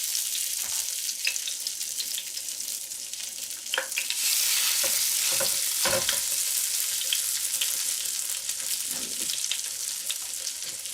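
Zucchini potato fritters fry in a hot pan with a steady, bright sizzle throughout, punctuated by occasional crackles and pops as batter is set down, close and continuous without talking.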